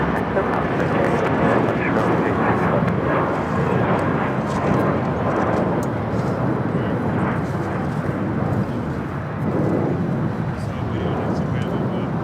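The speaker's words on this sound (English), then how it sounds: "That takeoff was Spirit Airlines 865, taking off to Reno on the A320." A Spirit Airlines A320 takes off at LAX with a loud, steady jet engine roar and broad rumble that holds throughout, and a voice talks over it.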